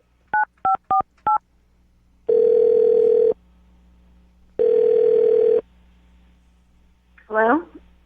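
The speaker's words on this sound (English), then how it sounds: "I'm going to dial the phone number right now" A telephone number is dialed: four quick touch-tone beeps, then two long steady tones separated by a pause, ending with a short rising electronic chirp, all loud and close with no talking.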